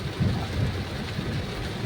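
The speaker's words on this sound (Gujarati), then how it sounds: "આયા જો જો જો આટલો બધો વરસાદ" Heavy rain pours in a dense, steady roar with deep rumbling underneath, continuous and loud throughout, with no voices.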